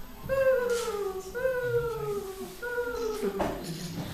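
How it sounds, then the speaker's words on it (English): Small descending quavering trills of an eastern screech owl at dusk repeat three times, each a wavering whistle-like call sliding down in pitch, fairly faint against a soft background hiss. "That's the call of the eastern screech owl."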